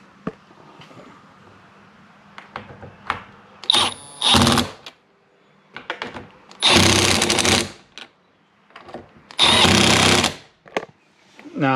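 A power tool drives bolts back into a Hyundai Genesis side mirror in a few short, loud bursts with gaps between them. Faint clicks and handling noises fill the quieter stretches.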